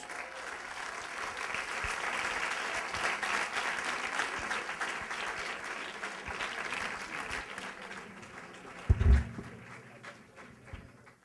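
After a lecture, an audience gives a steady round of applause that rises, holds, then gradually fades, with a brief loud bump near the end.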